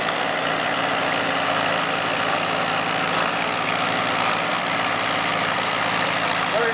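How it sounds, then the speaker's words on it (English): Vintage Fordson tractors idling side by side ahead of a double-header pull, a loud, steady, throbbing engine rumble held close without a pause and with no talk over it. "very well maintained tractors."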